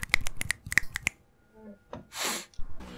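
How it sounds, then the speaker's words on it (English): Several crisp finger snaps come in a quick irregular burst, followed by faint breathy noises and a short rush of air, close and quiet. "I'm going to start clapping, like, with offbeat snaps, too."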